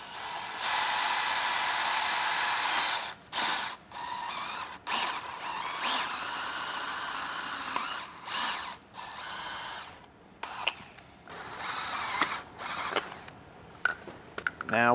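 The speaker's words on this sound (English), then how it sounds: "Now we'll go ahead and drill it." A power drill bores holes for a hitch light install, whining in bursts of several seconds separated by short pauses, with clicking and handling noises between runs.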